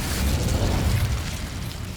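The Incendio fire spell goes off in Hogwarts Legacy, a loud, low, rumbling whoosh of flame that holds steady for a moment and eases slightly as it fades.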